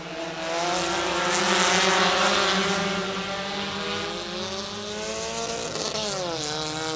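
A packed field of Hornet class race cars roars past in a heat race, engines droning loudly together with rising and falling pitch as they pass close, steady and dense, with no talking.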